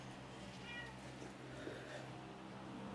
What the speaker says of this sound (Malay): Alah kucing di belakang.